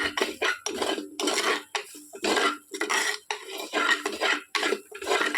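A metal spoon scrapes and clinks against a pan while a chili and coriander powder mix is stirred, in rapid irregular strokes, close and fairly loud with brief pauses.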